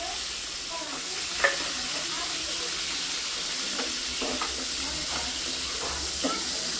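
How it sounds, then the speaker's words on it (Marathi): Chopped onion frying in hot oil for a home-style village chicken curry, with a continuous loud sizzle and hiss, occasional stirring scrapes, and a voice speaking faintly over it. "बघ दाद्या तेल गरम झालंय आपलं. आता कांदा टाकूया."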